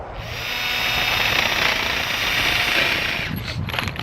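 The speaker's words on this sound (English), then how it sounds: "we need to countersink the M10 bolts" Power drill countersinking holes for M8 bolts in metal for a homemade BBQ, giving a loud, steady whirring grind that swells and then trails off into clatter at the end, close up.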